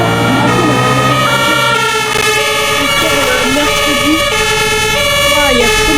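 A fire engine siren in a video game wails loudly and continuously, its rising and falling tones layered over a steady vehicle hum, with a voice briefly talking underneath.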